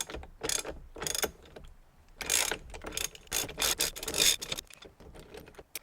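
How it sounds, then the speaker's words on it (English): A 15/16 socket wrench ratchets a steering wheel nut loose, giving close, rapid bursts of clicking in uneven strokes with short pauses between them. "The biggest I actually have is a 22, but this 15/16 works, and it's going to get the job done for me"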